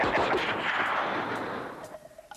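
A voice imitates machine gun fire in a duck hunting comedy skit, a loud rapid burst of rattling shots over about two seconds that trails off into a short sustained tone.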